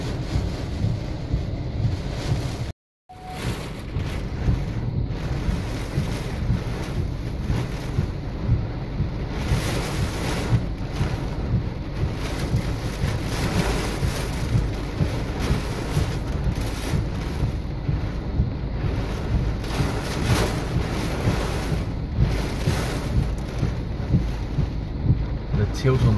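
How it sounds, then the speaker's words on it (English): Violent wind gusts from Tropical Cyclone Debbie batter the microphone outdoors by the sea, a loud, unbroken roar with surging peaks and one brief cut-out near the start. "Strong gusts, really strong gusts. Violent wind gusts."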